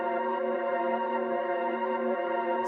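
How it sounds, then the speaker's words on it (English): Reversed rendered chord in FL Studio, heard as a sustained, steady tonal pad that swells evenly at moderate level before a brief bright burst at the very end, alone with no talk. "I rendered it out as an audio file and I brought it into the playlist and I reversed it so it sounds like"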